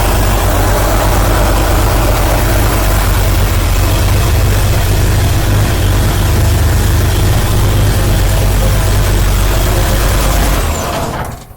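A Chevrolet Cameo truck's 327 V8 with an Edelbrock four-barrel carburetor and chrome alternator idling: a loud, close, steady low rumble lasting about eleven seconds before cutting off abruptly at the end.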